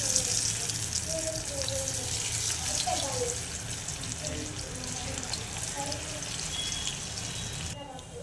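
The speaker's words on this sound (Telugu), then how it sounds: "ఇలా కలుపుకుంటూ పైకి కిందకి ఈ వడలని వేయించుకోవాలండి" Moong dal vadas deep-frying in hot oil, with a steady bubbling crackle that runs throughout at close range while someone stirs them up and down at low to medium heat.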